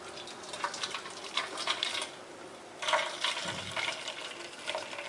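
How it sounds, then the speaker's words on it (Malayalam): Boiled herbal medicine water being strained, heard as faint splashing and trickling liquid with a few soft clinks, in short bursts broken by a brief pause, with no talking. "ഇനി നമുക്കിതൊന്ന് അരിച്ചെടുക്കാം."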